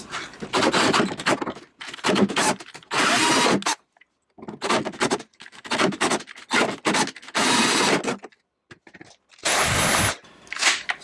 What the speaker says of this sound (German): Ich beginne mit einem 9 mm Bohrer.